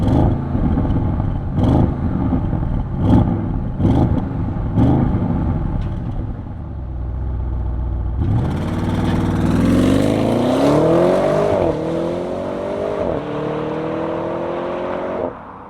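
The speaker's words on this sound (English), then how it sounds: "Why don't we start up and fire up this RS6?" A Nardo Gray 2021 Audi RS6 Avant V8 starts after a series of clicks, the engine catching with a loud bark, then revving up and settling through several rising and falling sweeps, close and loud with no talk.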